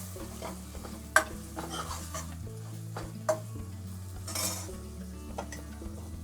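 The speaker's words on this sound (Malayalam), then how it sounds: "മഞ്ഞൾ പൊടി ഒന്നിടാം. മഞ്ഞളൊന്ന് മൂക്കട്ടെ." Turmeric powder fries in hot oil in a pan, a soft steady sizzle with occasional stirring scrapes and a couple of sharp utensil clinks, quiet and close under a low background hum.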